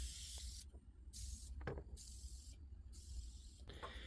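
Several short aerosol bursts of sealer sprayed over handmade faery ear makeup, soft hissing puffs broken by brief pauses, quiet and close with no talking.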